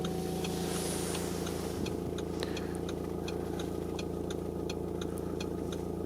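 An Audi car engine idles steadily, a low continuous hum with faint ticking, heard close and fairly quiet with no talking.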